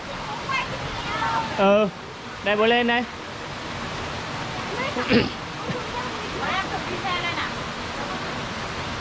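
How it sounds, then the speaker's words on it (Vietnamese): Steady broadband rush of the Trái Tim waterfall near Sin Suối Hồ village, continuous and fairly loud, with voices talking briefly over it now and then. "Nhà mình lại đến một con thác nữa. Trên map thì đây sẽ là thác Trái Tim."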